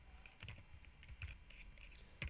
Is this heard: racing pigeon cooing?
no